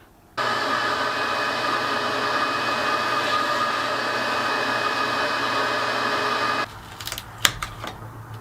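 A wood router cuts a guitar neck shape through a 3D printed jig, with a steady loud whine running for about six seconds before stopping, followed by a few scattered clicks and knocks.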